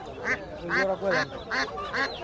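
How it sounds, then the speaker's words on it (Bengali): Young Muscovy ducks at a rural village market quack about five times in a quick irregular series, close and clear over light background murmur. "দর্শক দেখতে পাচ্ছেন এই যে একটু বাচ্চা হাঁস"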